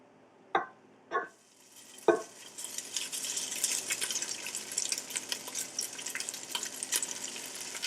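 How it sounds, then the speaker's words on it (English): After a few sharp knocks of a pot, rice dumped into hot oil in a Ninja Foodi pot bursts into a continuous bright sizzling crackle that carries on steadily and close. "we will dump our rice in here"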